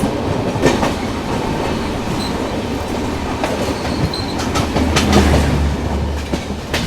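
Garib Rath Express from Bandra to Delhi Sarai Rohilla passing on the adjacent track, a close, steady rumble of railcars with rhythmic wheel clatter and occasional squeals, no talk.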